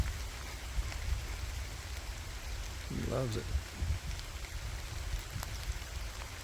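Light rain patters outdoors on a cool day near grazing sheep, a soft steady hiss throughout, with a brief spoken remark and a short animal or handling sound in the middle.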